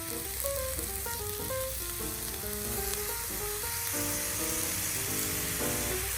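Shrimp fried rice sizzles steadily on a Camp Chef FTG600 flat top griddle, giving a loud, continuous frying hiss. Faint musical tones play in the background.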